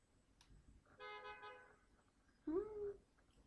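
Two short car horn honks sound at a distance over quiet New York City street background noise, the second lower and more forceful.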